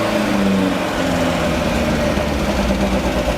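A Beck 550 Spyder replica's engine idles steadily while warming up: a loud, close, continuous buzzing rumble with fast, even pulsing and no talk.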